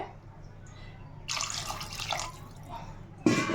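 Water splashes into a pot of mutton trotter curry in two bursts: a longer gurgling pour, then a brief, sharper splash, close by over a quiet room.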